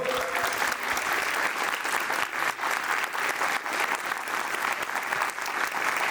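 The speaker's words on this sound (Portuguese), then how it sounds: "recebam aqui com muitos aplausos, Zé Salvador." A crowd at the opening of a cultural event gives sustained, full applause to welcome a speaker to the stage. The clapping is steady and close, with faint crowd murmur beneath.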